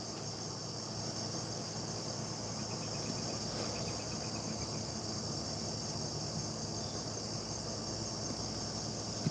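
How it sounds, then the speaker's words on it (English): Crickets chirp outdoors in a continuous, even, shrill trill that carries on steadily throughout, fairly soft and with no talking. "The crickets are making a little bit of extra noise in my ear today."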